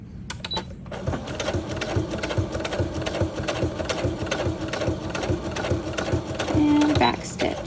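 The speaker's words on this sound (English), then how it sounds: "I'm going to finish off with a straight stitch." A sewing machine runs a straight stitch on a pocket project, a steady fast mechanical rattle that holds closely for several seconds after a brief start, with a faint voice in the background.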